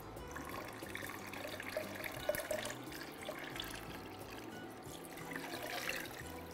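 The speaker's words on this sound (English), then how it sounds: "And I'm gonna add in 4 cups of beef broth." Beef broth pours into a soup pot in a steady, quiet liquid stream that trickles and splashes continuously, heard close in a home kitchen.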